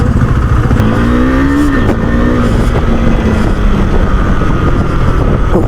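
A 2021 KTM Duke 390 BS6 motorcycle engine runs loud and close, its pitch rising and falling with throttle changes over a continuous rough exhaust drone, with no voices.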